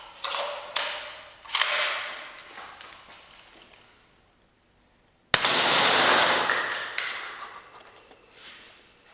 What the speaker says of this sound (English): try to test the firepower of the new G&P 203 grenade launcher barrels with rifle, of course, and the new grenade.